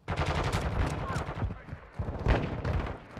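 Dense gunfire from Call of Duty: Modern Warfare II, with rapid overlapping shots and bursts that run almost unbroken for about three seconds, close and loud, mixed with game voice callouts.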